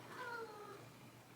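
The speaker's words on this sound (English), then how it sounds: "My cat's meowing right now." A pet cat meowing indoors, one faint, wavering drawn-out cry that fades away, heard alone in a quiet room.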